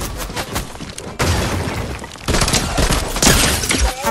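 Dense, loud bursts of rapid gunfire from a Fortnite zone wars match crackle almost continuously, with sharp impacts and a few heavier booms layered on top.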